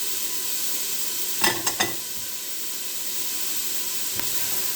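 Carrots and mushrooms cooking in oil in a soup pot, a constant bright sizzle with a few quick clattering stirs and drops near the start.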